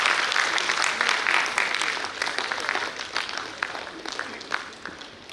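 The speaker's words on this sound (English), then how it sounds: "A big round of applause for both the platinum sponsors" Audience applause at the inauguration of a steel industry conference in Bhilai, India, as platinum sponsors come on stage. The clapping is moderate and steady, with individual claps standing out and gradually thinning toward the end.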